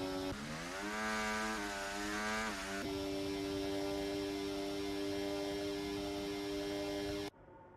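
A Formula 1 car engine in a racing video game, set at the Azerbaijan round, gives a loud, continuous high-pitched whine that rises and falls through gear changes, then holds steady before cutting off sharply near the end.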